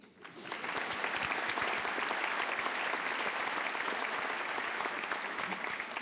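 A theatre crowd at a French comedy show bursts into applause, rising quickly in the first half second and then holding as dense, loud, sustained clapping to the end.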